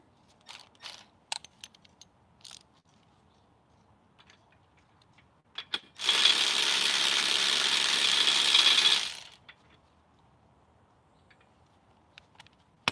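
A ratchet is used to tighten something while working on a Jeep JK. A single sustained whirring ratchet run of about three seconds stands out loud and close, surrounded by scattered small metallic clicks and taps.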